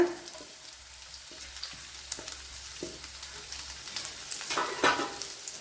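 Sliced onion drops into hot oil in a Kerala-style home kitchen, crackling and popping softly with scattered spits and a few stirring clinks, quiet and close, no voices.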